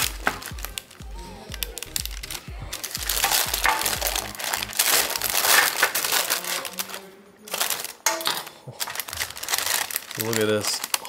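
Knife cracking and crunching through chilled date bark, a series of crisp snaps and crinkly breaks up close, with people talking over it.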